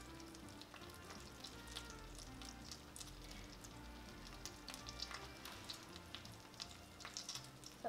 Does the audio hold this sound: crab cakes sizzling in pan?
yes